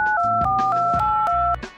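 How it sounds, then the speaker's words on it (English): Telephone touch-tone dialing, a rapid series of about seven loud, clean DTMF beeps in steady rhythm, each with a short gap between, heard alone. "This is the sound of a telephone communicating."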